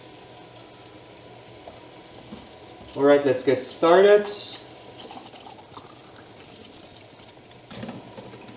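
Film developing chemicals for at-home color film processing are poured into a developing tank in a brief liquid splash and gurgle, preceded by a short spoken line and followed by quiet room tone.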